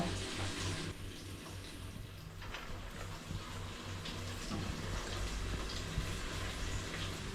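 Water pours steadily over cooked rice in a soft, continuous splashing hiss, fairly quiet and unbroken throughout.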